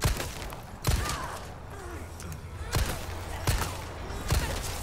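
Gunfire in Resident Evil 4 Remake on insane difficulty: about five sharp, punchy shots at uneven intervals, each a sudden loud bang, over a low, murmuring game ambience.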